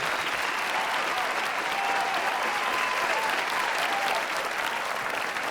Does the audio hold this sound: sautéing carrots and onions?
no